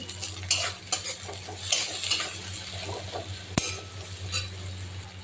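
Chopped tomato is stirred into a frying small-fish curry, with repeated scraping strokes and sharp metallic clinks of a spoon against the pan over a steady low sizzle, fairly close.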